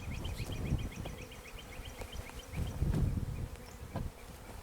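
Honeybees hum steadily around a newly set-up beehive, a dense, close buzzing swarm with individual bees whining past at varying pitch, no voices.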